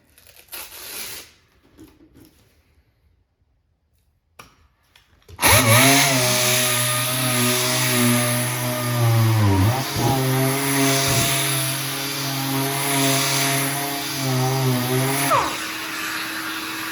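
A power sander works a wood edge with 180 grit sandpaper during an arcade cabinet restoration, starting abruptly after a quiet stretch with a loud, steady whine and buzz that briefly dips in pitch as pressure changes.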